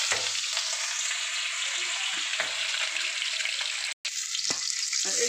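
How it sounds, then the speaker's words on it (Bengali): Salted, turmeric-rubbed bhola fish fries in hot oil, a loud, steady sizzle with a brief cut near the end before it resumes, no talk. "মাছটাকে ভেজে নেব।"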